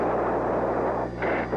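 An F-14 fighter jet launches a missile during a 1989 dogfight over Libya, a loud, continuous rushing roar with a brief dip and shift partway through.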